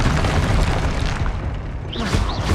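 Confringo fire-blast spell exploding in Hogwarts Legacy, a dense rumbling boom that fills the whole moment, with a brief rising whoosh near the end.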